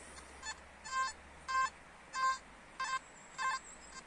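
Several short pulsed metal detector beeps, about six bursts at roughly half-second intervals, loud and close over a quiet outdoor background while it sweeps across a buried object.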